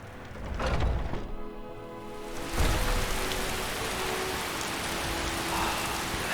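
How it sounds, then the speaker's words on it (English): Rain falls steadily in Skyrim Special Edition, a continuous hiss of drops with a thud and a brief tonal hum early on, then an even, moderately loud patter for the rest. "Blasted rain."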